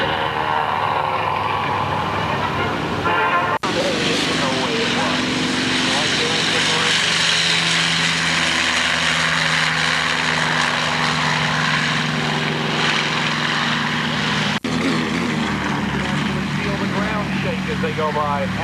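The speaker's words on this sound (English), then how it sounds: "R2800 in that. 1900 horsepower here, Lou." A propeller aircraft with an R2800 radial engine of 1900 horsepower runs loud and close at an airshow, a continuous heavy roar that swells and shifts in pitch as it passes, with voices speaking over it.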